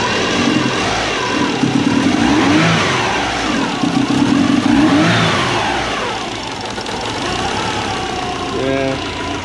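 A Sleeper Subaru fitted with a custom 4 inch turbo intake revs up and settles repeatedly, the engine rising and falling with intake whoosh, heard from close by with some muffled talk.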